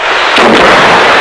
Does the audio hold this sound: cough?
no